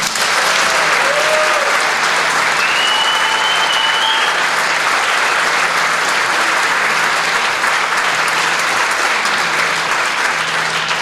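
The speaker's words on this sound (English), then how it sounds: "One more time, please give a warm round of applause to band directors Ms. Sandy Chasen, Mr. Gary Page" Dense, loud applause from a concert audience at a school cadet band concert, honoring band directors and students on stage, a continuous wash of clapping sustained evenly throughout, with a few faint whistles.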